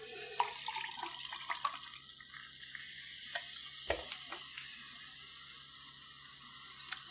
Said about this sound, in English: Poured a little bit fast that time.